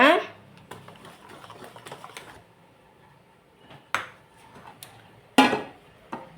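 A spoon clinks and scrapes against a bowl while eggless cake batter is mixed, a few sharp taps and rattles spaced apart with quieter stirring between, fairly close and moderately loud.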